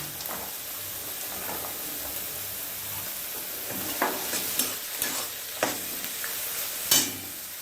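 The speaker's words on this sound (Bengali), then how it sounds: "গাজরটা দিয়েও একটু নাড়িয়ে দেবো গাজরটা দিয়ে এবার এর মধ্যে দিয়ে দেব আমি মটরশুঁটি" Carrot and green peas stir-fry in a hot pan for a vegetable chow mein, with a constant hissing sizzle and a run of clinks and scrapes from stirring in the later part, close by with no talk.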